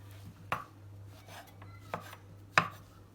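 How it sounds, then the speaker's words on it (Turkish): A knife chops cultivated mushrooms on a cutting board, three or four sharp, separate thuds spaced irregularly, close and quiet over a faint steady kitchen hum. "Şöyle ikiye böldükten sonra şu şekilde, şu büyüklükte olacak şekilde tüm mantarları doğruyoruz"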